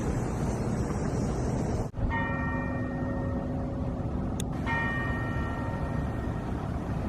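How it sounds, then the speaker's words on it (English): Church bells ring out in Augusta, Georgia, with sustained tonal strikes over a constant outdoor rumble, a second strike following a couple of seconds after the first. "I can hear the church bells going off."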